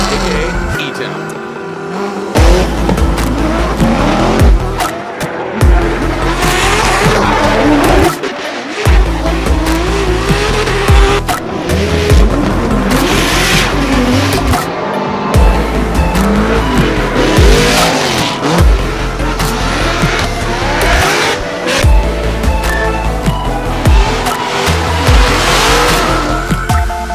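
Pro Formula Drift cars drifting at the E-Town drift colosseum in a round 3 event, loud engines revving with long, repeated tire squeals, while voices talk over the noise.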